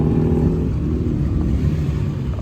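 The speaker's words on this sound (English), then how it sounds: "The Subaru boys pulling up." Subaru cars rolling up at a Racewars drag strip, a loud, close engine rumble with a low throbbing idle that holds steady throughout.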